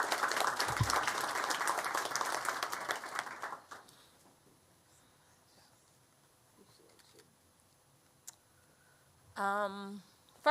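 An audience at a crime-reduction presentation applauds for several seconds in a dense, fairly loud patter. The applause then fades to near silence with small scattered noises, and a short burst of speech-like voice follows near the end.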